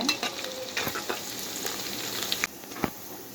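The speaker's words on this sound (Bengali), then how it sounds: "পেঁয়াজটাকে একটু ভাজা ভাজা করে নিব।" Chopped onions with bay leaf, cinnamon and cardamom fry in oil in a pan for beef tehari, giving a steady soft sizzle broken by brief stirring scrapes.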